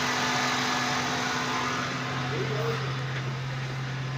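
A repaired Suzuki Cultus EFI idles smoothly and quietly at a steady hum while someone talks over the engine.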